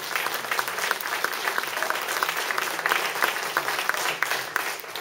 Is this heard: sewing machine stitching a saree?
no